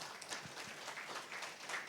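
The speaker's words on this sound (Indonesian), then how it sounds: "Sampai di sini yang mengerti boleh tepuk tangannya bagi Tuhan kita." A church congregation claps during a service, a dense wash of applause lasting about two seconds with no pauses.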